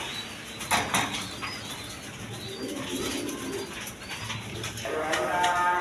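Lahori pigeons, large birds being handled, give soft cooing with bursts of wing flapping, close by over a rustling background.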